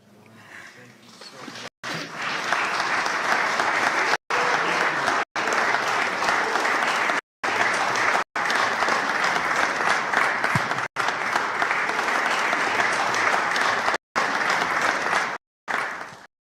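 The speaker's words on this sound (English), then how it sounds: "Give her a wonderful hand clap" Sustained audience applause at an interfaith conference, a dense, even clatter of many hands clapping that continues throughout, broken by several abrupt momentary dropouts.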